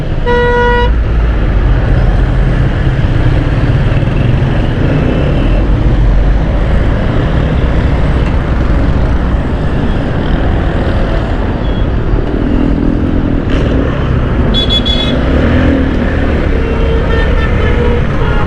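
A long traffic jam on a city road during a motorcycle trip, with continuous dense engine rumble, occasional horn toots near and far, all loud and steady.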